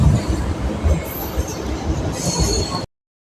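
A MEMU passenger train on the Jolarpettai–Katpadi line rumbles along the rails as it departs, heard from inside with steady loud wheel noise, clattering and a faint high squeal before the sound cuts off abruptly.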